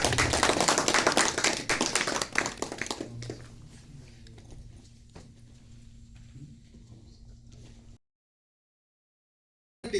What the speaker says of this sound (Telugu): మీరందరూ చప్పట్లు కొట్టి ఆయన ఆహ్వానిస్తారు